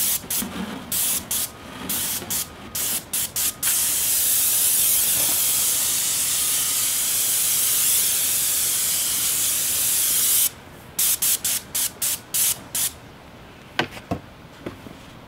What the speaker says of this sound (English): Now if I just spray like this, I'm gonna lose a bunch of overspray off that way